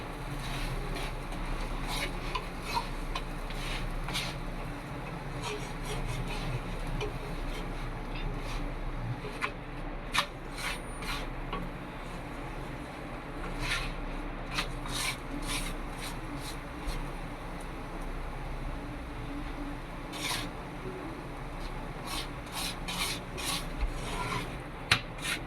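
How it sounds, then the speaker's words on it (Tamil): Chapathi dough is rolled out with a rolling pin, a continuous close rubbing and scraping with occasional light knocks of wood on the board. No one speaks. "இப்போ நல்லா மாவு போட்டு தேய்ச்சிக்கலாம்."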